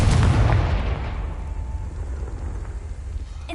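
A Confringo fire spell blasts in Hogwarts Legacy, a single loud burst right at the start that fades into a rumbling tail.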